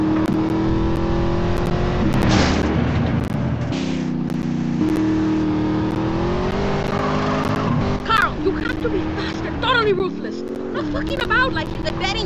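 A car drives in the video game GTA San Andreas: a steady, loud engine drone with small pitch shifts runs throughout, and busier voice-like sounds come in over it near the end.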